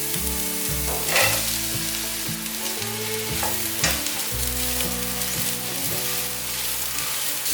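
Fresh shiitake mushrooms stir-fried in a wok alongside browned carrot, a loud continuous sizzle with scraping stirs, heard under steady background music with no talking.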